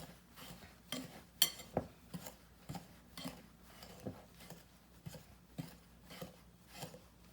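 Utensil stirring baking soda and salt into banana yogurt loaf batter in a bowl, a steady series of soft clinks and scrapes, close and quiet, repeating roughly every half second.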